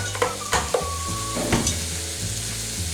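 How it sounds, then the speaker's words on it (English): Three slices of bacon sizzle in a frying pan, a steady close crackle with a few sharp scraping knocks of a utensil against the pan near the start. "While the bacon is cooking"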